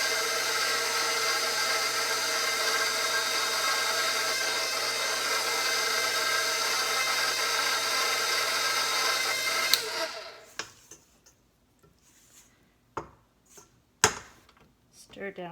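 An electric stand mixer whirs steadily while combining bread flour and salt for dinner rolls, a loud continuous motor hum that cuts off near the end, followed by scattered knocks and clatter.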